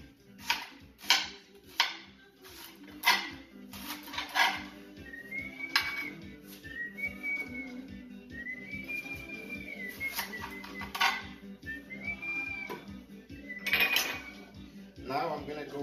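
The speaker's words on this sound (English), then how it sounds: "Here's our leeks. Cut this one also." A knife chops leeks on a cutting board in a home kitchen, a series of sharp, irregular knocks and clicks close by, loud at first then quicker and lighter, with faint clinks and a bird chirping in the background.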